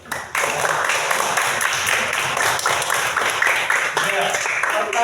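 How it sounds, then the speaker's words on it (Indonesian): A school class clapping hands together after a good question in a lesson, a loud, dense burst of applause that starts abruptly and carries on steadily with voices mixed in. "tepuk tangan."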